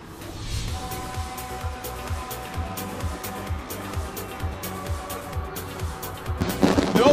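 A rapid series of sharp pops and bangs crackles from a distance at a truck racing event at Brands Hatch, repeating in quick bursts of fireworks, with a louder cluster toward the end.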